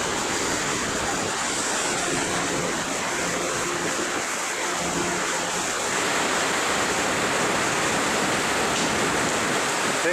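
Waves breaking against a breakwater on the shore by the SS Badger, a steady broadband roar of surf that swells slightly partway through, continuous and fairly loud with no voices.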